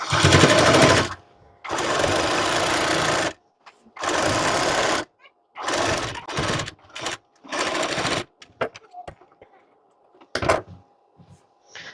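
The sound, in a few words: sewing machine stitching blouse side seam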